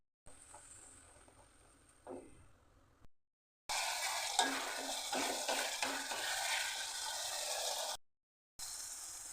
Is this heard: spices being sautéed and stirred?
yes